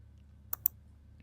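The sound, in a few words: mouse click on the send button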